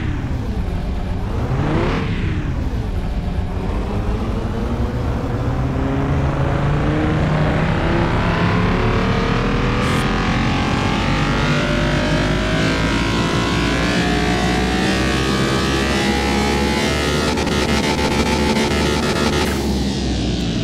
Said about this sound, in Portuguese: Vamos lá no dinamômetro. Vamos ver quantos quilômetros isso aqui pega.